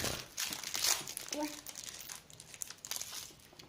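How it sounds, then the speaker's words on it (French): Small plastic toy surprise sachets being torn open, close crinkling and rustling of plastic with soft tearing, while a voice speaks faintly alongside. "Voilà, donc nous avons sorti tous les petits sachets. Nous allons maintenant les ouvrir."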